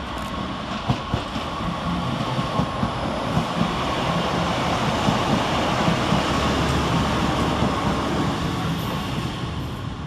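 A Northern diesel multiple unit, 156466, departs the far platform at Stockport railway station, a steady rumble of engine and rolling wheels with faint rail clatter across the whole stretch, heard from a distance with no talk.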